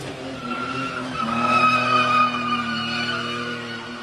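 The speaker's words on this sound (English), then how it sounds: "waiting for people to do an actual skid or a burnout" Tires skid and squeal as a car does a burnout leaving a car show exit, a loud sustained screech with engine roar lasting the whole stretch and swelling midway.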